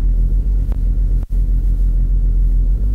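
A Jeep descending a hill gives off a loud, steady low rumble, with one brief dropout partway through.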